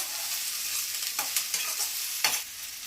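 Onions frying for a chicken dish, a soft continuous sizzle in the pan with a few scraping stirs of a spoon, close and fairly quiet, with no talk.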